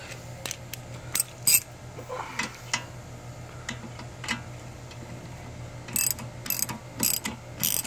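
A ratchet wrench clicks in short bursts, tightening a bolt while another wrench holds the bolt head during an engine and transmission install in a 2013-2015 Chevrolet Malibu LT 2.5L, with metallic knocks and a low steady hum beneath.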